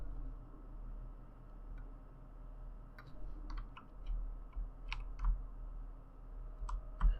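Computer keyboard arrow keys are tapped while steering in a space game, with scattered light clicks, some single and some in quick pairs, over a low steady hum.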